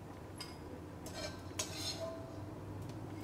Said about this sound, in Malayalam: ഇനി നമുക്ക് ഒരു പ്ലേറ്റിലേക്ക് മാറ്റാം.